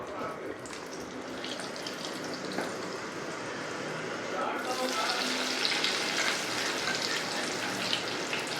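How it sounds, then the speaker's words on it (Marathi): Kabuli chickpeas go one by one into hot oil in a pan over a low gas flame and fry for chana koliwada, giving a steady crackling sizzle that swells louder and brighter about halfway through. "पहिले आपण काबुली चणे फ्राय करून घेऊया."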